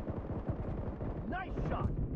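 Gunfire in a PUBG Mobile Domination match, a dense, continuous rumble of shots and battle noise with a brief voice-like announcement in the middle.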